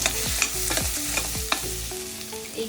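Dabeli masala being stirred and mashed in a pan over a low flame, with repeated scraping strokes of a spoon and a soft sizzle underneath, close and steady with no talking.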